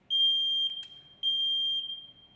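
A household smoke detector's test alarm sounds after its button is pressed, giving two long, loud, piercing beeps of equal length separated by a short gap.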